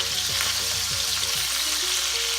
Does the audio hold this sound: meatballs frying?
yes